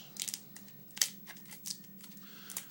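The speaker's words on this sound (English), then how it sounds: "you probably want to unroll this carefully, because then you could keep this piece of foil" Foil from an AK47 cleaning and survival kit crinkles and rustles as it is unrolled, in sharp, close, irregular crackles against a quiet low hum.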